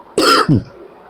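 A throat clearing followed quickly by a short cough, close and loud, then quiet.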